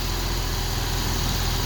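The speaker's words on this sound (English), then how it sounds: "I'll show you guys. Engine runs very well." A car engine running steadily, a loud continuous idle hum with no change in pace over the short stretch.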